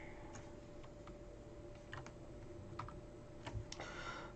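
Sparse keystrokes on a computer keyboard as a name goes into a JavaScript prompt dialog, a few faint scattered clicks over a steady low hum, with no voices.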